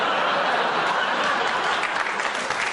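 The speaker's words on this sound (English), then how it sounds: "And Laurie, give everyone a round of applause." A studio audience at a comedy panel show applauds steadily, a dense even wash of clapping from a large crowd that holds loud throughout with faint laughter mixed in.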